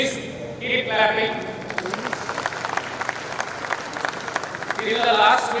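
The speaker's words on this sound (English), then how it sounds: "Please keep clapping." An audience at a college convocation ceremony in Bhubaneswar claps steadily, a dense patter of many hands under and between voices speaking, swelling louder near the end.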